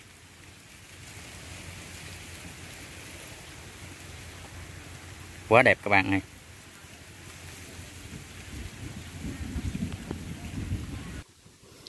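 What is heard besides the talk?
rain falling outdoors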